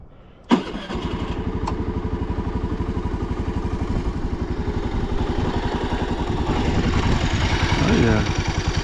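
A Honda Navi with an aftermarket intake mod cranks and catches, then settles into a steady, close, chugging idle of small-engine pulses that rises slightly near the end.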